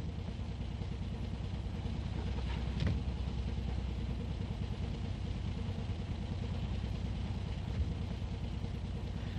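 A West Clare narrow gauge railcar hauling an Inchicore-built passenger trailer at Ennis, its engine a faint, steady low rumble with a brief clank partway through.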